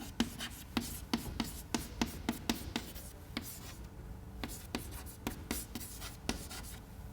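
Chalk or marker strokes on a board during a mass transfer lecture, a run of quick tapping and scratching strokes at a steady rhythm, fairly faint, with a pause midway before writing resumes.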